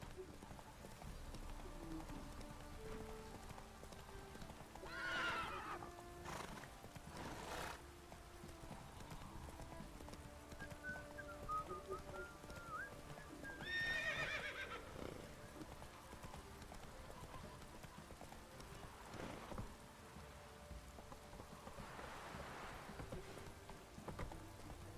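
Horse hooves clip-clopping steadily through a rainy scene in The Witcher 3 video game, with a brief whinny and soft rain in the background; a voice speaks briefly over the hoofbeats.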